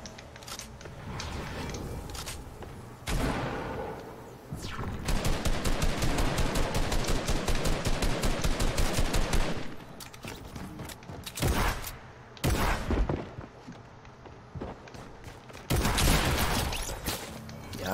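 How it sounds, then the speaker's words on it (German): Fortnite gunfire crackles in short bursts and a long rapid automatic volley, with sharp single shots scattered between quieter gaps of game ambience. "er schießt hier schon wieder"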